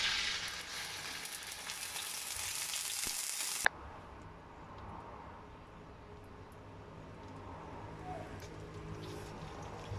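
A blended spice paste hits hot oil in a pan with an immediate loud hissing sizzle that cuts off abruptly a few seconds in, leaving a much quieter low crackle of frying for the remainder.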